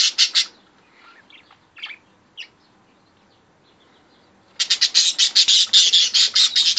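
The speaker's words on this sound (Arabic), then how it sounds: "هذا زوج طائر الحب، عندها فرخين وبيضة واحدة أعتقد." A pair of lovebirds with their chicks chirp in rapid, high, shrill bursts, with a short volley first, a few scattered tweets, then a long, loud run of repeated calls close by.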